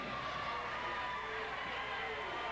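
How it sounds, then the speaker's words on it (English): Basketball crowd in a high school gym cheering steadily, a dense continuous roar filling the space with no clear breaks. "And this crowd getting into the game as well."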